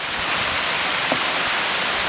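Steady broadband rushing of a waterfall on the trail to Angel Falls, a constant close roar of falling water with no break.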